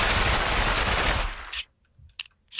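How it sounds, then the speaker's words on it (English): Automatic fire from an MP5K submachine gun in Minecraft's Flan's Mod: a dense, continuous burst that stops sharply at about a second and a half, followed by a few faint clicks and small taps. "This is the MP5K. Yeah, hear that?"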